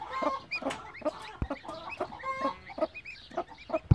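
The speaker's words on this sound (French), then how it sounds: "Ce sont des poules qui font des œufs bleus." An Araucana cross hen, a breed that lays blue eggs, clucks in a steady run of short, close calls with a few sharper squawks, heard alone.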